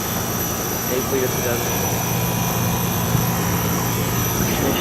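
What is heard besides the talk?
commercial central air conditioner unit running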